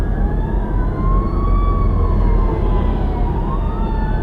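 A fire engine siren wails up and down loudly as the truck passes on the road, rising and falling continuously over heavy traffic rumble, with no voices.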